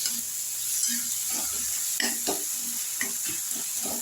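A spice mix fries in a pan for a fish curry, a soft continuous sizzle broken by several short stirring scrapes close by.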